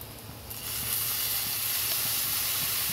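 Soy sauce hits a hot pan of fried rice, rising into a loud, steady steaming hiss and sizzle that swells after the first half-second and holds evenly, with no talking.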